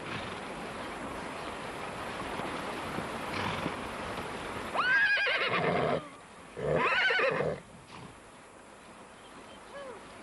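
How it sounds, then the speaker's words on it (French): Mongolian horses whinnying in a rugged Altai setting, with two loud, close neighs rising over steady wind or rushing background noise and quieter calls around them; hoofbeats are not clearly evident. "Le cheval mongol est le produit de son environnement."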